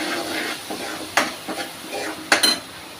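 Spoon stirring spices into potato bhaji in a pan, with soft scraping and a low sizzle broken by a few sharp metallic clinks of spoon against pan.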